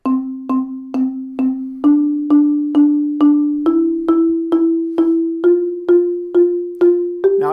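Heavy mallets strike a keyboard percussion instrument in a steady stepwise drill, about sixteen even, ringing notes climbing gradually in pitch, close and clear with nothing else heard.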